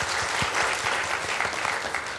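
Congregation at a Sunday church service applauds a newlywed couple, steady dense clapping from many hands filling the room without a break.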